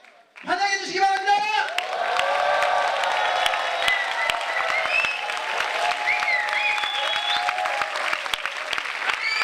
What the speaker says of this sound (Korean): 뜨거운 함성과 열정을 다해서 환영해 주시기 바랍니다.